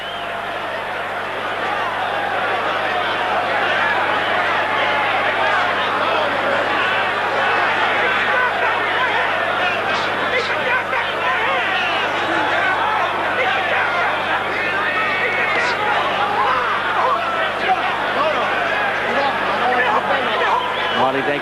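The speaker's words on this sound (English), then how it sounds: "Lionel Butler now getting booed by this crowd" A boxing crowd at a 1995 heavyweight fight between Lennox Lewis and Lionel Butler, a dense continuous roar of booing and jeering voices that holds steady throughout, with a commentator talking over it.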